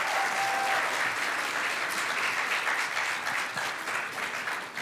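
A full round of applause for a minister at a schools challenge winners' announcement, dense and even clapping from a sizable audience for about five seconds, easing slightly near the end.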